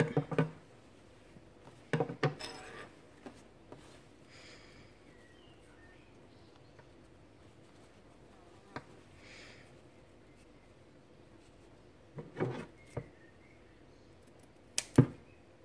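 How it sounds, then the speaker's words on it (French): Scissors snip through fabric seam allowances while sewing a baby top, a few clusters of crisp quick cuts spaced apart, close and fairly quiet against a soft room background. "Donc, on va couper les marges."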